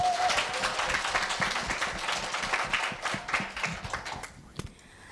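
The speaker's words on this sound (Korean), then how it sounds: "마지막 발표를 뜨거운 박수로 맞이해 주시기 바랍니다" Scattered hand clapping from a modest audience, fairly dense at first and thinning out toward the end.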